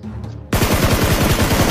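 Automatic gunfire in the mobile game PUBG Mobile opens suddenly after a short quiet lead-in and continues as a loud, rapid, evenly spaced stream of shots to the end, with no talk.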